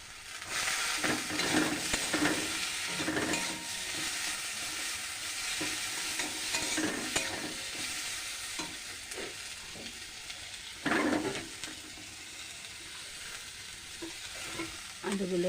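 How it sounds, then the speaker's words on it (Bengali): Yardlong beans sauté with spices in a hot pan, a steady close sizzle and frying hiss with scraping stirs of a utensil throughout, no speech. "বরবটিগুলো দিয়ে একটু কষবো।"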